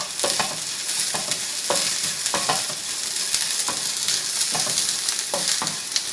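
Torn curry leaves hit a hot frying pan with ginger and garlic for potato bonda, giving a steady bright sizzle broken by repeated scraping stir strokes.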